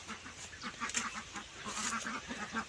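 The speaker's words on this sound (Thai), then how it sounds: "นี่เราเลี้ยงเป็ด เลี้ยงเป็ดอยู่ตรงนี้" A flock of ducks on a farm quacking and honking together outdoors, steady overlapping calls with some wind noise, no talking.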